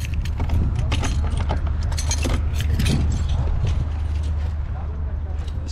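Metal keys jangle and scrape repeatedly as they fail to enter the lock of a prefab cabin at a World Cup fan village in Qatar, heard close up beneath a person talking.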